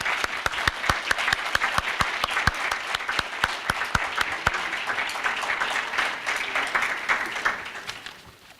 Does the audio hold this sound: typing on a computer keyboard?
no